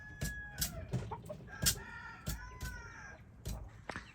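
Silkie chickens kept outdoors in winter cluck and chatter close by, a series of short, uneven clucks and brief tonal calls, mostly alone without speech.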